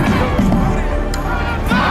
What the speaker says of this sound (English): You can see police here now firing tear gas into the crowd.